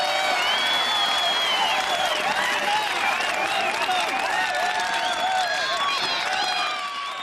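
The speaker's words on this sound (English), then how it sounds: "So let's have one last round of applause" A crowd applauds and cheers continuously, dense clapping with scattered whoops, sustained for several seconds.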